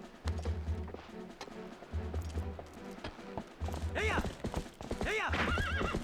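A horse in the video game The Legend of Zelda: Twilight Princess HD, its rhythmic clip-clop of galloping hooves repeating throughout, with loud whinnies and neighs rising near the end.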